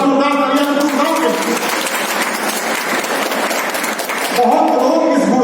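A school annual function and award ceremony audience in Gurgaon breaks into loud, sustained applause, a dense crowd of clapping hands filling the hall with no talk over it.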